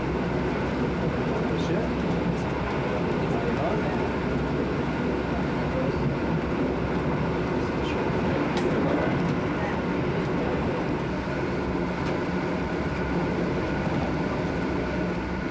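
A scenic passenger train rolls along on its journey toward Venice, producing a steady, continuous rumble and rattle with no breaks, heard from inside or close by, with faint voices underneath.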